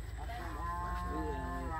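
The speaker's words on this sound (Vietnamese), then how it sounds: "tới gần tới nhà của chú Rương là có bò kêu rồi đó" A cow lows near a house, one long drawn-out moo that rises and wavers, fairly close and steady against a low background hum.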